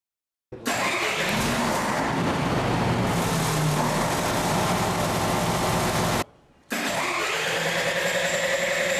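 A Doosan diesel engine cranking without firing, a loud continuous mechanical churn for several seconds, a brief stop, then cranking again, no talk.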